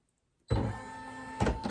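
Brother SE 2000 embroidery machine arm whirs into position after silence, a steady motor hum with a brief louder clunk near the end as it settles.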